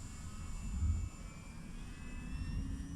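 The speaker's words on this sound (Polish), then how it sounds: "Ale nie, to samolot leci." An airplane flies overhead, heard as a steady, distant broadband rumble with a low roar that swells slightly and then holds, with no voices.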